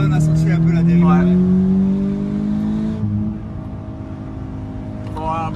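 Rear-wheel-drive 200 hp Toyota GT86 engine droning under load while driving, a steady rising rumble that eases off midway, with people talking over it inside the car.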